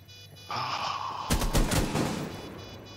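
A short, loud burst of rapid gunfire in Rainbow Six Siege cracks out after a rising hum, followed by a brief echoing tail.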